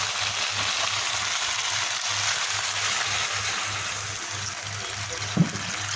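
Water poured into a pan of oil-fried spices and tomato sauce, for a rohu fish curry, gives a steady loud hissing sizzle and rush of liquid throughout, with a brief clink near the end.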